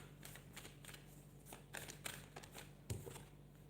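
Soft, close rustles and light snaps of tarot cards being shuffled and drawn from a deck, with a few sharper flicks in an otherwise quiet room.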